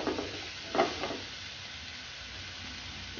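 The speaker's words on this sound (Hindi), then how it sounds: "अब हमने ये मसाले सारे मिक्स करके इसको तेज आंच पे फ्राई करना है।" Spring roll filling of chicken and vegetables with spices stir-fried over a high flame, giving a steady soft sizzle with a few louder scraping stirs near the start, no talking.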